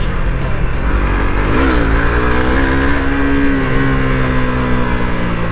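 A Harley motorcycle engine rumbles loud and close in traffic, with a deep continuous drone that rises in pitch as it revs, over steady background noise.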